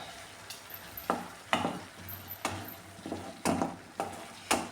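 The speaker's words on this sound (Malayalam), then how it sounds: "ഇനി ഇത് ഒന്ന് ഇളക്കി കൊടുക്കാം" A spoon stirs koorkka masala meat curry in a pot with a regular rhythm of about eight scraping strokes over a soft, continuous sizzle, close and moderately quiet.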